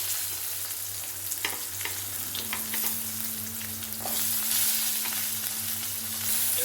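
Ground spices, ginger, garlic and shallots sautéing on a tawa for chicken tawa fry, a loud steady sizzle with occasional stirring scrapes and a faint low hum underneath, no talking.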